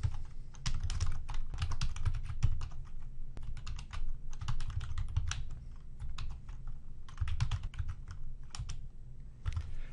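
Rapid, continuous tapping on a computer keyboard, close by, with uneven bursts of keystrokes and no talking.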